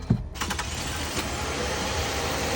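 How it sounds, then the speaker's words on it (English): A 2009 Lexus ES350 engine cranks and catches on a test start right after new spark plugs and coil packs go in, settling into a steady, close idle hum with no talking. "Now we can get a little test start."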